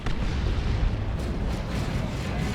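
Heavy tank cannon fire in Dawn of War 2: Retribution, a super heavy tank with a mega battle cannon and demolisher cannon, rumbling as a dense, continuous barrage of booms and blasts in a loud battle mix.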